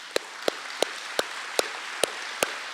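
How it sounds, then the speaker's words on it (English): Sparse, slow applause at a middle school closing ceremony, just a few single hand claps spaced about half a second apart, sharp and isolated over a quiet room. "you'll notice not many students were clapping then"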